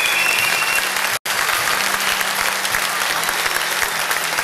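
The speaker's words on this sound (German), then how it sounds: "Applaus." A crowd applauds steadily at a small German event, the clapping broken by a split-second dropout before resuming at an even, full level.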